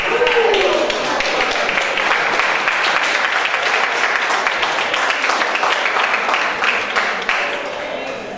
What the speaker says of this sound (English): I think they're clapping for you